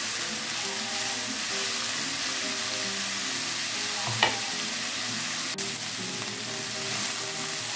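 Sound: chayote being stir-fried until wilted

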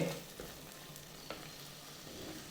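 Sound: stirring prawns into ghee roast masala in pan

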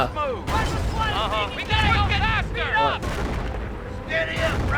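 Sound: gunfire in the video game Company of Heroes

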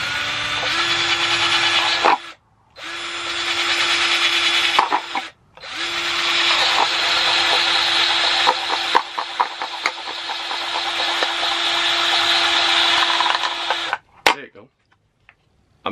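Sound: drill making holes in bottom of plastic cup

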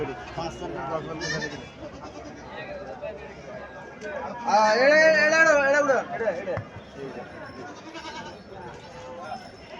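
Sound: bleating local male goats at a livestock market

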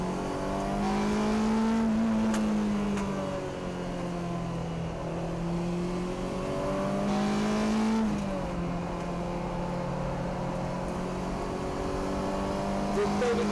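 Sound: race cars on track at Tsukuba circuit

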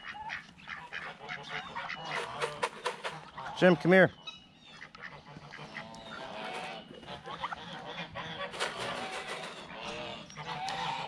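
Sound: ducks and geese honking

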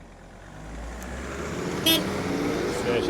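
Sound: tractor with semi-trailer driving

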